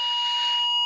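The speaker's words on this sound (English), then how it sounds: "Now even they're ringing the door." An electronic doorbell rings at home during an online conference talk, a steady tonal chime holding for about a second at moderate level with no voices over it.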